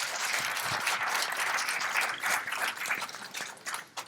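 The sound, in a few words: applause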